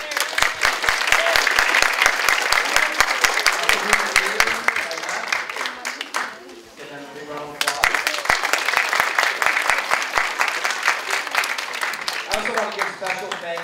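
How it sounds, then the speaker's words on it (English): An audience at a DARE graduation ceremony applauds the parents, loud, dense clapping that sustains for several seconds, dips briefly as a voice comes through, then swells again. "Give a round of applause to the parents here."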